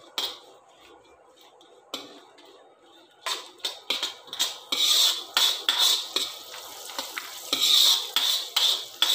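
Whole spices sizzle in hot oil in a pan for a cashew curry, with repeated spoon stirring and scraping growing louder toward the end, close up and without talk.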